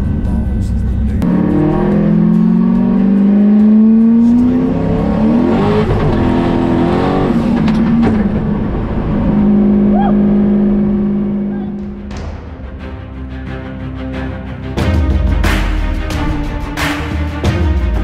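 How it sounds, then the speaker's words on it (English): A white Fox Body car with an AGP 80mm turbo and custom downpipe, revving at the track: loud rising and falling engine tones with a sustained drone, then a quieter stretch and sharp bursts near the end, with talk throughout. "we have recently installed an AGP 80mm turbo with a custom downpipe"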